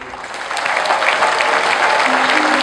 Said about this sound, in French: Je vous demande ici d'applaudir pour eux.